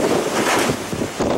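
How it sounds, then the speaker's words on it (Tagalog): Strong typhoon wind (Typhoon Lando, Philippines) roars and gusts loudly against the microphone, a dense rushing blast that surges and dips without pause. "Maraming residente ang hindi pinatulog ng hanging animoy sumisipol na sa"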